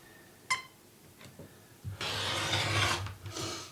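Quilt fabric is cut along a ruler at a 60-degree mark, heard as a brief click and then a close, steady rasping cut lasting about a second, followed by a shorter scrape, with no talking.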